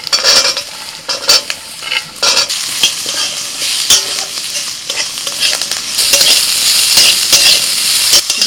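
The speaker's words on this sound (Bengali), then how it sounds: "আদা রসুনটা একটু ভেজে নিয়ে দিয়ে দিচ্ছি কারি পাতা। এবার দিচ্ছি কুচোনো আলু।" Chopped potatoes frying with ginger, garlic and curry leaves in hot oil, a steady loud sizzle broken by repeated stirring scrapes and clinks of a utensil against the pan, intensifying toward the end.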